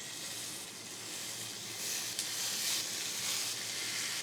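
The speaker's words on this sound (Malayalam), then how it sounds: "ഇപ്പോൾ വെളിച്ചെണ്ണ നല്ലതായിട്ട് ചൂടായിട്ടുണ്ട് ഒരു മത്തിയും വെച്ച് കൊടുക്കുക" Sardine frying in hot coconut oil with curry leaves, Kerala style: a steady, soft sizzle with a hissing texture that swells a little louder partway through.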